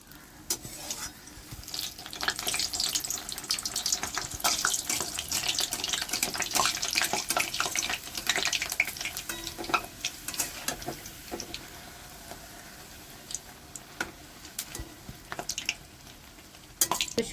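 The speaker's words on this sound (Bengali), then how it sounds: "এবারে আমি লুচিগুলো ভেজে নেব।" Luchi, puffed flatbreads, frying in hot oil in a wok, a steady broadband sizzle with bursts and scattered clinks from handling, close and fairly loud, easing slightly toward the end.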